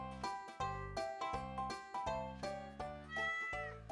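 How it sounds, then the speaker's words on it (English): A domestic cat meows repeatedly and clearly at close range, about eight short, pitched calls in quick succession with no talk over them. "It's our cat."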